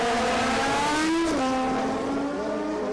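At a drag racing event, a Kawasaki ZX14 drag motorcycle launches. The engine holds a loud, sustained high-revving whine that climbs in pitch, then dips sharply as it shifts and carries on pulling hard.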